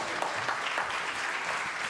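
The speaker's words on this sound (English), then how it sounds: "Let's give her a round of applause." A congregation at a Unitarian Universalist Sunday service applauds in a brief, even burst of many hands clapping together at moderate loudness, with no talk over it.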